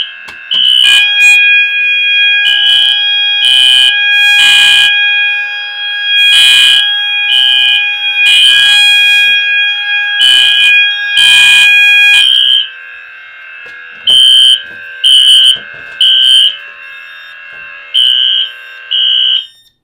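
An electronic fire alarm system blares in repeated bursts of a shrill tone during a system test, steady pulsing at first, then shorter separated blasts after a pause; loud and close.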